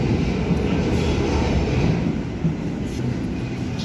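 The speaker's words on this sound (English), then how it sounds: "Hornsby train departing and most likely Gordon service departing." A Hornsby-bound suburban train pulls out of Central station, a steady, loud rumble of wheels and motors that holds nearly constant throughout, close by and with no voices.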